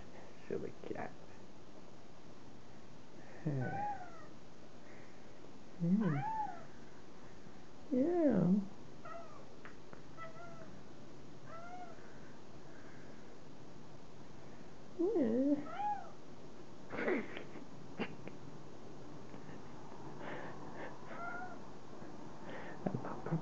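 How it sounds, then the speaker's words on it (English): A house cat meows several times in short, rising calls spread across the stretch, fairly close and clear against a quiet room, with a voice murmuring in between. "Silly cat."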